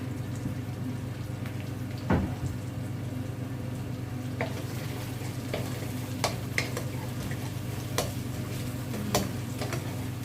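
Pork stir-fried with holy basil and hot chili in a pan, a steady sizzle of frying with occasional sharp scrapes and clacks of a utensil against the pan, heard close over a constant low hum.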